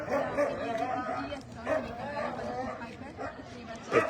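A husky makes talkative, up-and-down vocal sounds that sound like speech rather than barks, close by and mixed with people chatting outdoors at a pup parade walk.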